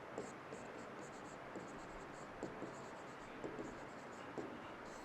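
Faint scratchy strokes of writing on a board during a civil engineering lecture, with short marks repeating at irregular intervals against quiet room noise.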